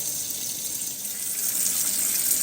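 Warm water runs steadily from a tap, a constant close hissing splash with no pauses and no voices.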